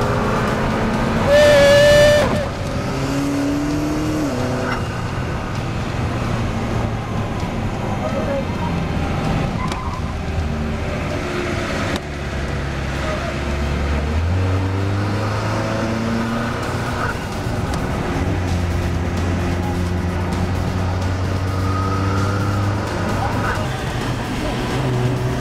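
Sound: turbocharged McLaren car driving on track

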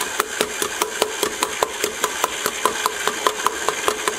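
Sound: old KitchenAid stand mixer kneading dinner roll dough

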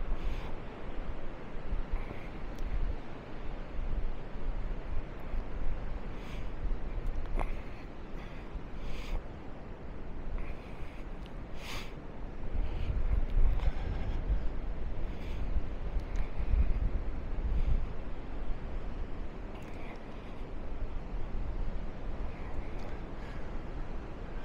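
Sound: wind at the beach in Maspalomas, Gran Canaria

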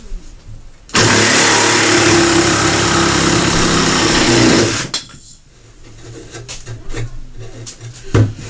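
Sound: Ryobi jigsaw cutting through a 1x4 wood board

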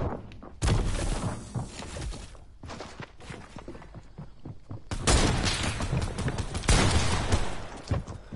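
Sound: gunfire in a video game

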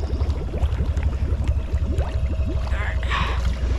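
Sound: 2018 Honda Foreman ATV engine idling in a pond

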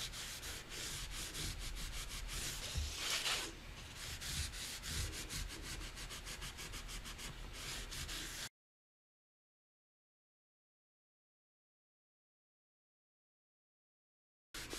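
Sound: buffing gilding polish on a watercolor piece

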